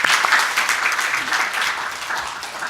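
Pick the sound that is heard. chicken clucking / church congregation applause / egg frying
church congregation applause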